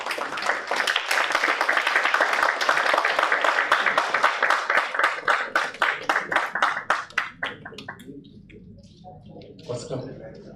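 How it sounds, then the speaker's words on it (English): Audience applause at a symposium inauguration, a dense wash of many hands clapping that stays loud and steady, then thins into scattered individual claps and fades toward the end. "And you be prepared to give a big round of applause."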